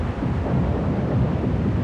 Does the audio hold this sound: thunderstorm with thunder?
yes